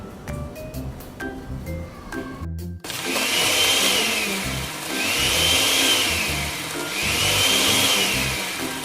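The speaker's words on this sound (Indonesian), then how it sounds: "kita blender dulu, oke." A kitchen blender whirs through almonds and one liter of water for almond milk, a loud motor roar surging and easing in waves after some brief clinks and clatter at the start.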